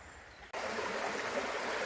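Water current flows among tree roots that grow into the water, a steady broadband rushing that starts abruptly after a brief quieter moment, with no voices.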